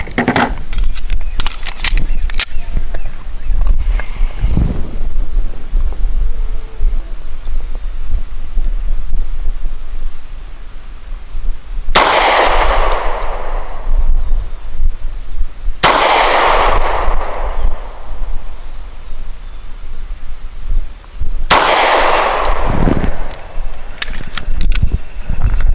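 A Springfield XDe 9mm pistol fires Federal Premium Low Recoil 135 grain Hydroshock rounds outdoors. Three sharp, loud shots come several seconds apart over steady wind noise.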